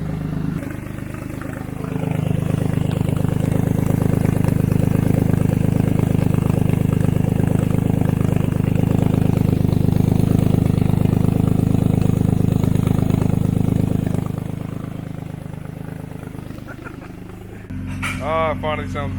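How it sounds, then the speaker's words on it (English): BMW E36 engine running with an exhaust leak, a loud, steady low rumble with a ticking, puffing texture that holds for most of the stretch, then drops as a voice speaks near the end. "it still sounds like a big exhaust leak"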